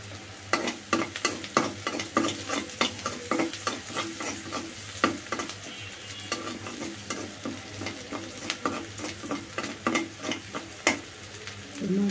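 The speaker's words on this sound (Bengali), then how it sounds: "মাছগুলি নেড়ে চেড়ে উঠিয়ে রাখলাম" Tengra fish fry in a pan while a utensil stirs them, giving repeated sharp scrapes and taps in an uneven rhythm over a continuous close sizzle.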